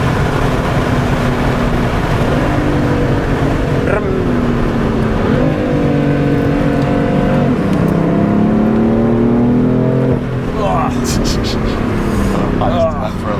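A modified five-cylinder turbo car engine revs loud and close, its pitch rising and falling in several pulls over about thirteen seconds, with voices talking underneath.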